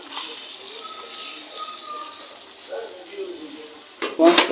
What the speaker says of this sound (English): Some frying egg for breakfast